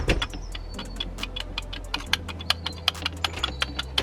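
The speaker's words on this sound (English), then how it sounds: "that's our rubbing noise we're getting" A dirty throttle body removed from a Porsche Cayenne makes a rhythmic rubbing and ticking noise, a series of sharp, evenly spaced clicks over a low steady hum, fairly quiet and close.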